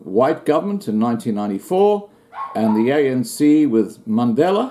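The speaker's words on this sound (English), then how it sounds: "Excuse my dog barking in the background." A dog barks in the background of a room while someone talks steadily over it, the barks partly buried under his voice.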